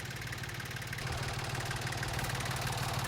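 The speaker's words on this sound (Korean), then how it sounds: "뙤약볕에서 30분째 트랙터와 씨름을 하는 영감을 보니" Farm tractor engine running steadily, a low rhythmic diesel idle with knocking pulses, moderately near and alone without talk.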